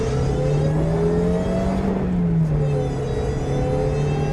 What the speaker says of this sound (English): you've got the supercharger whine as well